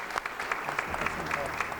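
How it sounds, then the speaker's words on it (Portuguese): Applause for a guest musician at a solemn ceremony marking a diocese anniversary in Rio de Janeiro, a short burst of steady clapping from an audience, with a voice talking over it. "Eu quero uma salva de palmas também"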